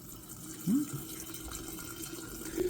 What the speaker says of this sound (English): I'm going to go ahead and transfer the kombucha into here.